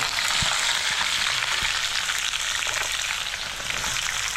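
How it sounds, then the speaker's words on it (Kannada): Chana dal, mustard seeds, peanuts, garlic and curry leaves fry in hot oil, giving a loud, dense, continuous sizzle with a couple of soft low knocks from the pan and no talking. "ಕಡಲೆಬೇಳೆ, ಸಾಸಿವೆ, ಶೇಂಗಾ ಆದಮೇಲೆ ಬೆಳ್ಳುಳ್ಳಿ ಹಾಕ್ಕೊಳ್ಳಿ."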